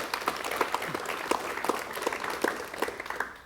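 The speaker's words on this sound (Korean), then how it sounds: "여러분 박수로 환영해 주시면 대단히 고맙겠습니다." A TV studio audience applauds to welcome guests, a dense steady patter of many hands clapping at moderate distance, continuous across the whole stretch.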